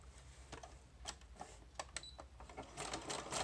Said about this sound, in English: I'm going to sew right up at the top here